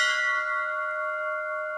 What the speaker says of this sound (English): it's customary upon entering the temple area to ring the bell